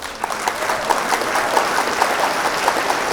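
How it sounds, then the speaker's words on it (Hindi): Steady, loud applause from a seated audience at a Hindi comedy poetry gathering, continuous clapping with scattered crowd noise throughout. "हमें इतनी तालियों की आपसे उम्मीद नहीं थी"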